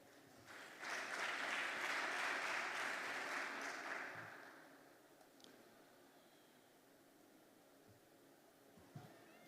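Conference audience at a local content event in Namibia gives a round of applause as a session chair takes the stage: a dense swell of clapping lasting about three seconds, somewhat distant, then fading into a quiet room with faint stray noises.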